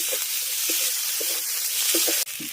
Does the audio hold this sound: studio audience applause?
no